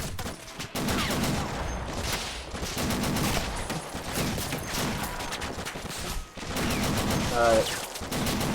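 Machine gun fire from the Army Men: Plastic Wars video game, dense continuous bursts of gunfire layered with game effects and a brief spoken word.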